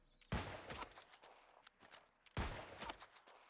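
Two musket shots in the video game New World, each a sharp loud blast followed by a rattling tail and scattered clicks, spaced about two seconds apart with no talk.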